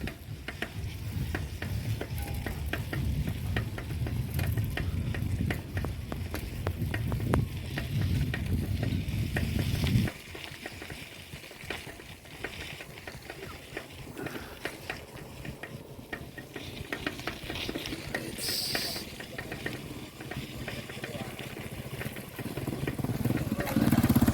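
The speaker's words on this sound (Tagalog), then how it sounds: "Pasensya na kayo guys kasi medyo maingay yung bisikleta natin." A noisy bicycle ridden in rainy weather gives a steady rattling, hissing roar. A heavy low rumble runs through the first ten seconds, then the sound thins out and swells again near the end. No one speaks.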